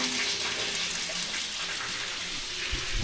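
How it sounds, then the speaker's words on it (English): Water gushing steadily as a Cat D7F dozer's radiator tank is flushed and rinsed out, a continuous broadband rush running unbroken and fairly close throughout. "Alright, we got good clean water coming out."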